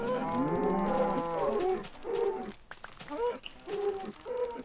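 Cows in the Minecraft video game moo in a short series of drawn-out, low calls, several overlapping and up close, with small clicks between them.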